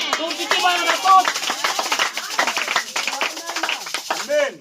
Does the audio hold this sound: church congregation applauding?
yes